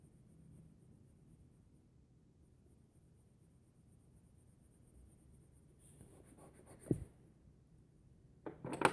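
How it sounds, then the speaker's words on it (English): Faine Polychromos colored pencil circling on paper makes a soft, quiet scratchy rub, broken by a couple of louder knocks and scrapes toward the end. "making circles like this, really works good on the paper in Magical Jungle"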